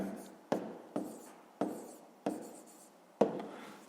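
A pen or pencil writes out a maths exercise on paper, in five short scratchy strokes at a steady, unhurried pace, close and fairly quiet with no talk.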